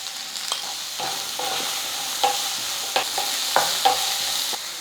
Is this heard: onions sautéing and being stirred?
yes